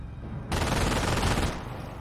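Rapid automatic gunfire rattles in a Company of Heroes World War II strategy game, a dense burst lasting about a second over quieter background noise.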